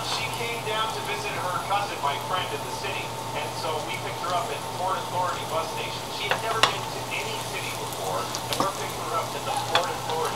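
Flour cooking in a pan for curry chicken, a steady broad sizzle and frying crackle with stirring scrapes running throughout, a low hum underneath.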